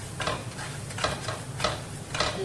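Onion and maida (refined flour) being stirred together in a pan, with rhythmic scraping strokes repeating about every half second over a low sizzle, close up and with no talking.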